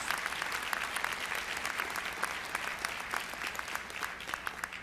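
An audience at a university MLK convocation bursts into steady, dense applause that continues for the whole stretch, heard at a moderate distance with no one speaking.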